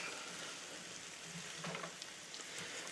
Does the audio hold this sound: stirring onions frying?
yes